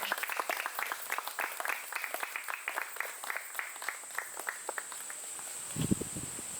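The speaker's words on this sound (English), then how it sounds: "I would love you all to please put your hands together and give a huge round of applause" Wedding guests at an outdoor ceremony in Cairns, Australia give sparse, light claps that sound like a small group, quiet and gradually thinning, with a steady high insect-like hum and a soft thump near the end.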